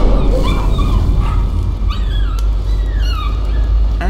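A dog in the video game Layers of Fear barks and whimpers in rising, squeaky yips over a constant low hum, loud and close.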